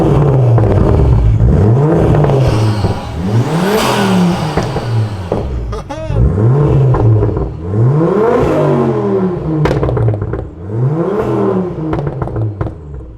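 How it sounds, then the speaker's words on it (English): A Ford Focus ST500 MK2 tuned to 340 BHP is revved from outside the car, its engine climbing and falling through repeated loud, close revs with rising whine and clattering as each rev drops back. "I gave you a little rev outside of the car"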